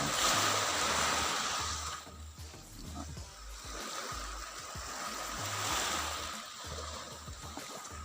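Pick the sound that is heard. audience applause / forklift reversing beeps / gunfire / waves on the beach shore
waves on the beach shore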